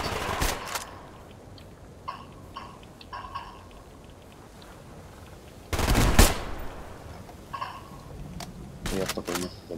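Gunfire in the Survarium video game during a team battle, sharp shots in short bursts and single cracks spread through the stretch, with one louder, heavier burst in the middle over quieter game background.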